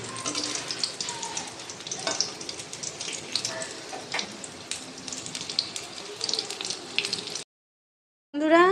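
Food pieces frying one by one in hot oil, a close, busy crackling sizzle with spitting pops for about seven seconds, then a short silence before a brief burst of another sound.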